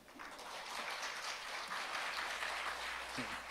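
A steady wave of audience applause fills the hall after a presentation at a 2022 Jeju forum session on startups, sustained and fairly even for several seconds with no talk over it.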